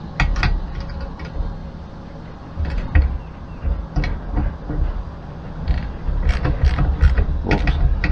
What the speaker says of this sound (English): and ratchet.